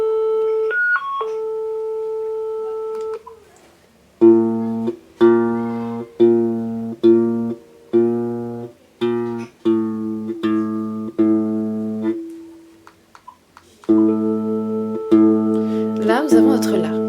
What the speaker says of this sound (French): Ce son-là, c'est le La.